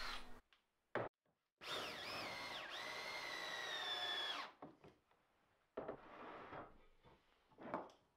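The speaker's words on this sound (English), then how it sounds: "I drill some pilot holes, get it screwed in place" A power drill bores pilot holes into wood on a workbench: a short tap, then a sustained whining run of about three seconds with pitch dips, followed by quieter scraping and handling clatter.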